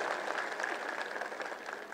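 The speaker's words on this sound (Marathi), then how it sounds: "मी आपल्याला विनंती करतो टाळ्या वाजून आपण त्याचा आभार व्यक्त करूया" An audience at a political speech event applauds steadily, a dense wash of many hands clapping heard from a distance at moderate loudness.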